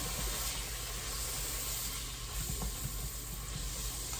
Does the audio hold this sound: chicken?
no